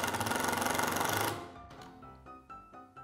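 A cordless impact driver drives a hex self-tapping screw: a loud rapid hammering rattle for about a second, then the motor winds down and a few softer taps follow.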